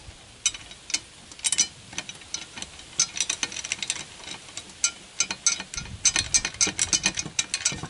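Wrench ratcheting as it tightens the original Xsara Picasso seat belt bolt in a Traction 11B, a run of sharp clicking ticks in uneven bursts that quicken and grow denser toward the end, close up.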